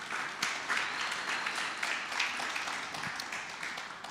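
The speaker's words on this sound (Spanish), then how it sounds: "Denle un aplauso al Señor" Church congregation applauding, a soft, distant wash of many hands clapping, steady and fairly faint throughout, with no voices clearly above it.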